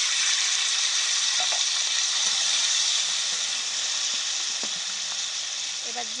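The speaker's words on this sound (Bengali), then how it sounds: "দিচ্ছি চিংড়ি মাছটা।" Shrimp fry in hot oil with a loud, steady, close sizzle that hisses continuously throughout, broken only by faint occasional clinks.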